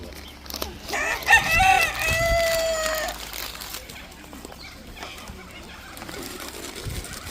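A red rooster at Halls Gap Zoo in Victoria, Australia crows once, loud and fairly near, over outdoor background noise, followed by quieter clucking and ambient sound.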